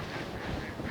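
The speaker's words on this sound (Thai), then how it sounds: "ขนมปังให้เป็ด" Ducks quack steadily while being fed bread after work, a dense close chatter of several birds that never lets up over a short stretch.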